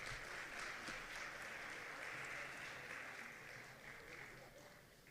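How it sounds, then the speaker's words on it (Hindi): Applause from a crowd at a welcome reception for a chief justice hosted by a bar association, a steady, even wash of clapping heard faintly, as if from a distance, slowly tapering off. "जोरदार तालियां"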